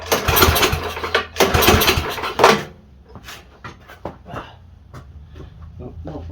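An MTD snowblower engine is pull-started with the choke on: two or three loud, rough cranking bursts, then quieter intermittent clicks and rattles as it fails to keep running.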